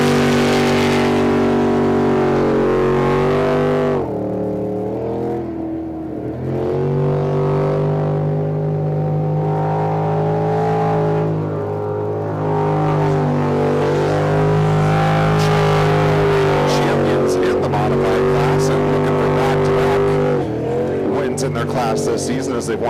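A modified race car makes a qualifying run at a Yakima, Washington track, its engine revving loud and close through gear changes with tire squeal, while a commentator talks over it.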